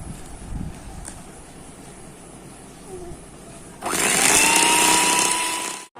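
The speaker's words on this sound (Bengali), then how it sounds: "ডিম বিট করার সাথে সাথে অল্প অল্প করে চিনি মিশিয়ে নিচ্ছি যেন চিনিটা ভালোভাবে গলে যায়" An electric mixer beats eggs while sugar is added little by little for a simple morabba cake, a steady loud whir starting partway through after quieter kitchen background.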